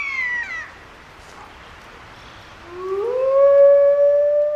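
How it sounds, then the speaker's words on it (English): Wolves howling in the Siberian wilderness: a high wavering wail fades out, followed after a pause by a rising, sustained howl that swells loud and clear with a second voice layered above it, no talking. "Howling, the wolf call to arms, gathers the pack and warns other wolves to back off."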